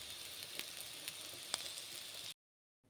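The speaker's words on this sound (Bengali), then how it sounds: "আর এখানে পেঁয়াজ কলি আলু ভাজা হচ্ছে" Onion stalks and potatoes fry in hot oil, a steady close sizzle with a few sharp crackles, then an abrupt cut to near silence.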